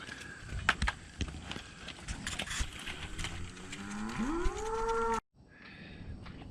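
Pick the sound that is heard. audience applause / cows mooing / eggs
cows mooing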